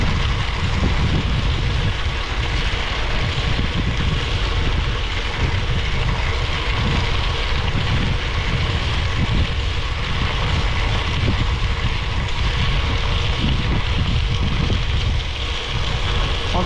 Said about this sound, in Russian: А ветер так и лютует.